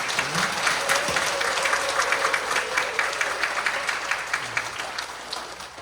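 Congregation applauding the worship team at a Catholic parish lecture, sustained clapping from a crowd in a hall with a voice briefly heard underneath.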